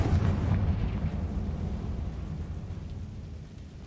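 Confringo blasting-spell explosion in a wizard video game, a loud low boom that rumbles and slowly decays over several seconds.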